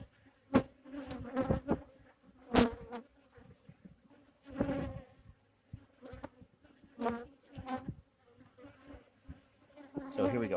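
Honey bees buzzing around an opened hive as a frame is lifted out: a continuous close insect drone with repeated louder swells as bees fly past the microphone, quiet between bursts, and no talking.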